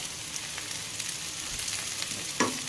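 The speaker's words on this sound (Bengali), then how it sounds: "ভালো করে বেগুন আর কুমড়োটাকে ভালো করে ভেজে নেব" Eggplant and pumpkin frying in hot oil in a pan give a steady close hiss and sizzle, with a few soft stirring scrapes and one louder clatter near the end.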